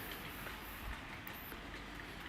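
A Class 66 diesel locomotive hauling blue and grey Mark II coaches rumbles past with a steady low roll of wheels and engine, fairly faint and continuous, with a light squeal briefly above it.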